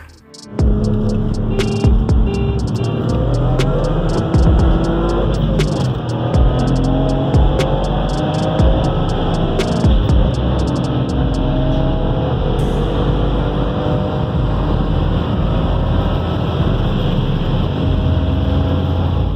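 Turbocharged Hyundai Tiburon, stock piston engine boosted to 1.5 bar and about 380 hp, launching from a roll: loud sustained engine drone and throbbing exhaust with rising gear pulls and a few sharp pops, close and continuous.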